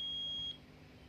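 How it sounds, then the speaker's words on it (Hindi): A multimeter's continuity beep sounds across shorted pins on an inverter board: one steady, piercing high tone lasting about half a second, then it cuts off, leaving quiet background hum. "तो ये दोनों शॉर्ट है, बीप आ रहा है"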